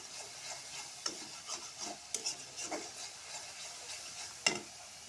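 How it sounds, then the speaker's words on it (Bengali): Spices and salt being stir-fried for a singhi fish curry, a spatula scraping and stirring through the masala in a pan with repeated irregular strokes and a steady soft sizzle, close by and with no talking. "এখন ভালোভাবে কষিয়ে নেব।"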